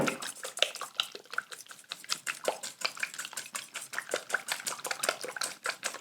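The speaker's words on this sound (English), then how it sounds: "Okay, so we're going to mix this up." Ingredients for a Croatian potato moussaka are stirred in a bowl that is too small, with a steady run of close scraping and clinking strokes in an even rhythm and no talking.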